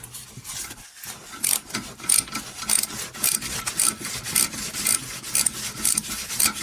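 A cheap Chinese screwdriver bit slowly unscrews a bolt during a brake pad change on a BMW X3 E83, giving a close, steady rasping scrape in repeated short strokes with no talk.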